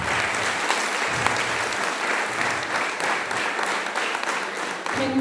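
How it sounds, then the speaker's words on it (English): Sustained audience applause at the close of a lecture on PFAS in drinking water, a dense steady patter of many hands filling the hall evenly from start to finish without a break. "I want all of you to have a big round of applause for today's lecture."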